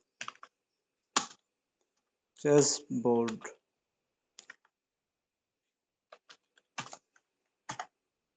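Someone types a short search word on a computer keyboard in bursts of a few close, crisp key clicks separated by pauses, and a voice speaks briefly in the middle.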